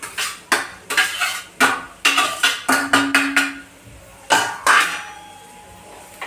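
Crumbled chapati is mixed with spices in a pan, with a metal spoon or spatula clanking and scraping against the pan in quick, uneven strokes, close and clear, followed by a brief pause and a few more knocks.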